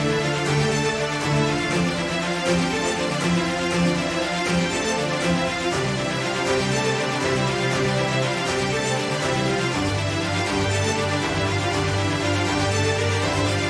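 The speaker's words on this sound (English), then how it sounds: "Here is the entire string section of the climax." A full orchestral string section swells in a dense, sustained passage with rich low notes, building continuously at a steady loud level.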